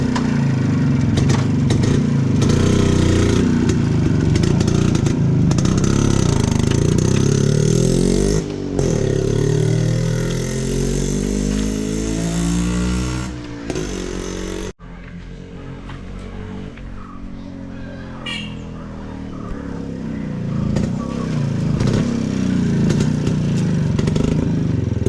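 Restored Delux-250 motorcycle, fully restored and on a trial ride, its engine running loud and close, with revving that rises and falls and a brief drop partway before the engine pulls away again.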